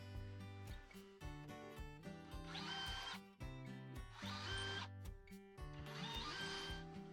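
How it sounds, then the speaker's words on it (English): A power drill whirs in repeated short bursts, rising in pitch as it pre-drills screw holes in wood, with brief pauses between holes; close and clear. "The reason I'm pre-drilling holes is so that the screws don't split the wood."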